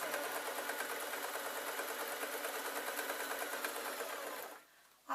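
A domestic sewing machine stitching through cotton and felt, running in a steady, continuous whir that is close and fairly loud before stopping abruptly near the end.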